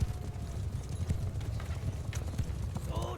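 Horse hooves pound in a steady clip-clop gallop across a battlefield in a strategy war game with mounted horse archers, a continuous mid-loud rumble with a faint whinny near the end and a voice talking over it.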